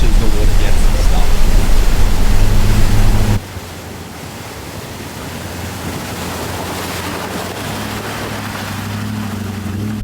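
Loud rushing water and splashing as a car drives fast through a river crossing in the Daintree, a broadband roar that suddenly drops after a few seconds to a steadier, quieter wash with engine rumble underneath.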